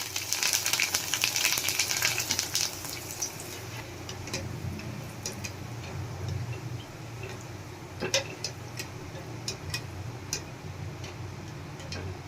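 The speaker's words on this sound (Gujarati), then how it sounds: "આપણે આ રીતે એકદમ સરસ ભૂંગળી તળી લેશું।" Bhungli, the tube-shaped fried snack for a Gujarati mamra chevdo, fries in hot oil with a steady close sizzle dotted with sharp crackling pops, busiest at the start and then settling into a quieter bubbling.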